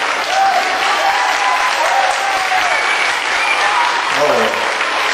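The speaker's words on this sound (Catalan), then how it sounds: "Aplaudiments." An audience claps steadily at the Escola Estel de Vic school festival, a dense, even wash of applause that holds at one level throughout, with faint voices in the crowd.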